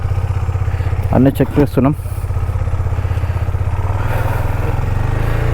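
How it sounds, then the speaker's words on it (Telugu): A motorcycle engine on day three of a Hyderabad-to-Kerala ride idles with a steady, close, low rumble throughout, while someone speaks briefly over it. "డే 3 బైక్ స్టార్ట్ చేసినాం"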